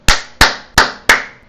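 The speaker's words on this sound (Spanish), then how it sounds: "Si yo aplaudo como lo acabo de hacer ahora" Four loud, sharp hand claps come close up in a steady rhythm, each with a short, crisp decay. Nothing else is heard.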